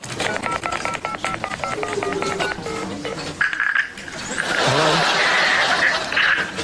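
Telephone keypad tones for a 999 emergency call beep in a rapid, even run of short bursts, followed by faint voices and background noise.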